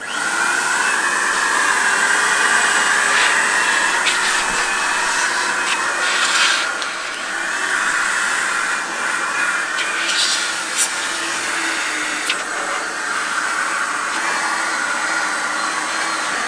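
A steady, loud whooshing roar of an electric blower cleaning dust from a gaming PC runs throughout, shifting slightly in pitch as it sweeps, with faint rattles and clicks.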